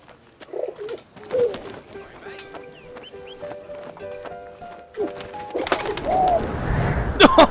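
A pigeon coos a few times in the video game 11-11: Memories Retold, soft and close against quiet musical tones, followed by a louder flutter of activity near the end.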